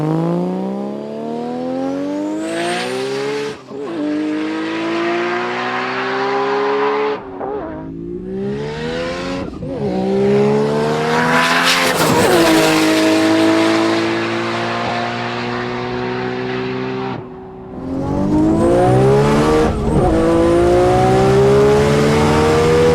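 A Nissan GT-R fitted with a T88 turbo, making a bit over 500 kW at all four wheels, roars down a runway. The engine runs loud and continuous, climbing in pitch through several gear changes with short dips at each shift.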